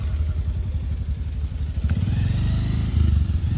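A nearby motorcycle engine idles with a low, rapid chugging pulse that grows slightly louder and rougher toward the end, with faint clatter.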